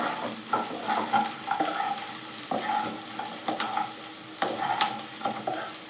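Cauliflower 65 being stir-fried in a pan, with a steady sizzle broken by repeated sharp scraping and clinking strokes of a spatula against the metal, close and alone with no talking.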